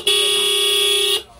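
A single steady electric horn blast from a Suzuki Burgman Street 125 scooter fitted with an original Minda horn, loud and close, holding an even buzzing tone for about a second before cutting off.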